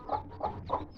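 A hen clucks near freshly hatched chicks, one egg still left to hatch; a rhythmic series of about four close, fairly loud clucks, evenly spaced, with no talking.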